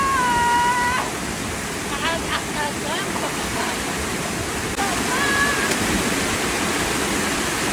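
Rushing roar of the Blue Waterfalls in Baggao, Cagayan, a steady broadband wash of falling water filling the whole clip, with voices and a few whistle-like tones briefly rising above it.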